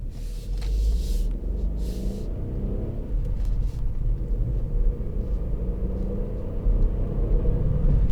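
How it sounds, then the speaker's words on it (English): A 2018 Ford Fiesta ST-Line X with the 1.0 EcoBoost three-cylinder engine, heard from inside while driving: a continuous low engine and road rumble, steady and fairly loud throughout, with no speech. "I struggle to get used to the sound of a 3-cylinder."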